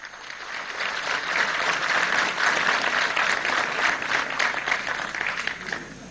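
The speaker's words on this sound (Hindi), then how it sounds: "let us put our hand together for all the dignitaries on the dais" Sustained applause from a large audience for the dignitaries on the dais at a Himalayan film festival event in Ladakh, steady and loud for several seconds with no speech.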